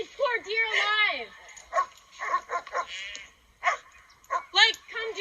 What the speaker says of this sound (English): Your dogs are eating a deer alive.